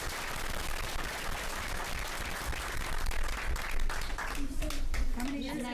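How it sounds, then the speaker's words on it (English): A school committee meeting audience gives a round of applause, a faint, muffled patter of clapping from the room that continues throughout, with a voice emerging near the end. "how about a round of applause for Ms."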